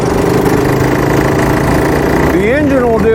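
A 1998 Honda Helix scooter engine running steadily, a loud continuous buzzing drone that holds level, then rises and wavers in pitch near the end as the throttle changes.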